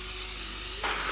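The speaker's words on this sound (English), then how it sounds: "So I'm just going to spray firstly a square container like this" A short hissing burst of cooking spray is sprayed into a square baking container, starting faintly and swelling to a louder, brighter spray toward the end, with no voices.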